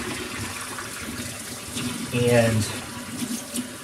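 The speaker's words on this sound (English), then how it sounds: "I make sure to run water through it" Tap water runs and splashes through the cavity of a raw chicken in a kitchen sink, a steady gush that swells briefly partway through, with a voice speaking over it.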